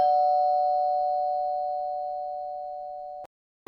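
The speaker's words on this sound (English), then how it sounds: "okay, the doorbell." A doorbell rings at a birthday gathering in a lounge, sounding as one long, steady electronic tone that fades slowly, cuts off abruptly, then a second tone begins at the very end.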